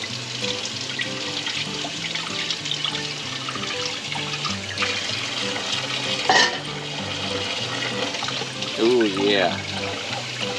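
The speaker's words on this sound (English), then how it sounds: "Give it a quick little rinse." Menudo ingredients rinsed under running tap water, a steady close stream splashing in a sink throughout, with a person briefly exclaiming over it.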